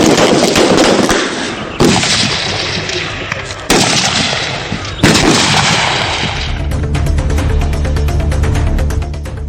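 Rifle fire at a police and security forces shooting competition over 200 and 300 metre ranges: a few loud, sharp shots spaced a couple of seconds apart, then a dense crackling volley, near and unbroken.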